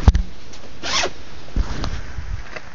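A zipper on a bunkhouse camper is pulled in one clear, close rasping sweep, with faint handling bumps and fabric rustle before and after.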